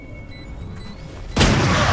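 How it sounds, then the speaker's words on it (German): Gunfire in the video game Valorant: a sudden loud blast of shots cuts in partway through and keeps going as a heavy, sustained burst over a quieter background of game ambience. "Das waren 30 Schüsse, die in die Wand reingegangen sind."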